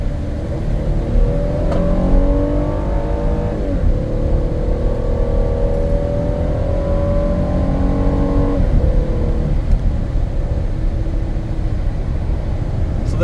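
A 2015 AWD Ford Explorer Police Interceptor with a 3.7-liter 304-horsepower V6 accelerates hard on a highway, engine climbing through gears with rising whine and shift drops, loud and steady over road rumble, no talk.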